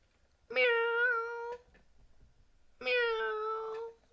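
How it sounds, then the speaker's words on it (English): Two clear, drawn-out cat meows play as a livestream viewer alert, each lasting about a second with a pause between, loud and alone with no talk over them. "Frank, Danelle, thank you very much for the meow, meow"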